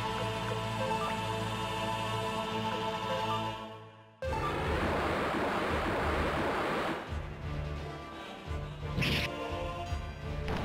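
Broadband wind gusts from the Suikoden II video game, a loud steady rush that surges and swells, drops away briefly, then returns, layered over game music.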